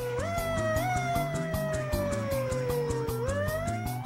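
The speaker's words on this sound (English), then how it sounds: "got to try out her new siren" A wailing siren rises and falls continuously, loud and up close, over a bouncy musical backing.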